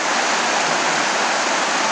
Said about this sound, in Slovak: potok v Kôprovej doline